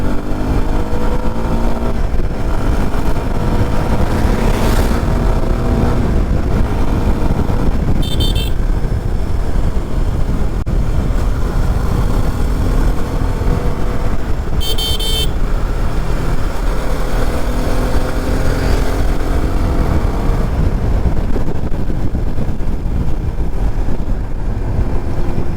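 A steady, loud engine drone runs throughout with rising and falling tones and heavy wind rush, a Suzuki Gixxer SF 250 motorcycle cruising at speed on an open road.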